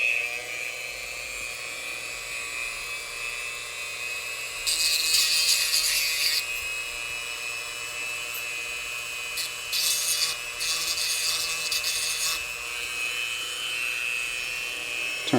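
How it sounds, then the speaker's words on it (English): A small rotary tool hums steadily as its polishing head buffs burrs off a homemade dental retainer, its pitch holding constant, with harsher grinding bursts as the head presses against the piece. "I'll use this polishing head to buff off the little burrs"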